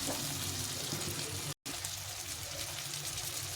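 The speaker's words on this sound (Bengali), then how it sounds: "একটু জল দিয়ে দেবো, নাহলে মশলাটা পুড়ে যাবে" Water splashes into spices frying in a pan with chili powder for a Bengali katla fish curry with brinjal and tomato, a steady close rushing pour that cuts out briefly halfway through.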